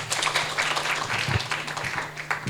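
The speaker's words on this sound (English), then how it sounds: "Please give her an applause." A conference audience applauds a participant at an international affairs session, uneven clapping of moderate loudness that rises and falls through the short span, with a low hum underneath.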